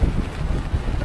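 Strong wind gusting at the base of Dynjandi waterfall in Iceland, a steady low roaring rumble buffeting the microphone for about a second, with no talk.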